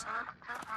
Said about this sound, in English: They're quacking.